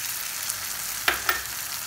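Red chili added to a sizzling dal tadka of fried onion and tomato, giving a steady hiss of frying with two sharp crackling bursts as it hits the hot oil.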